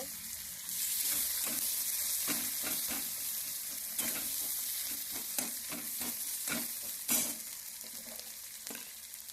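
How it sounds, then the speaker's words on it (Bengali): Onions frying in a pan with dried chili and cumin sizzle softly while a spatula scrapes and stirs in quick, repeated strokes close by. "এবার আমি দিয়ে দেব পেঁয়াজ পেঁয়াজগুলো হালকা হালকা ভেজে নেব"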